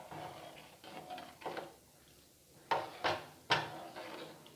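Coconut milk being stirred into oat porridge in a pot, with a spoon scraping and knocking against the pot in several clinks, close and moderately loud, with a quieter pause partway through.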